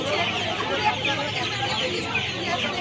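Chickens cluck and squawk continuously at the Uluberia duck and chicken market near Kolkata. Many birds overlap close by amid busy market noise.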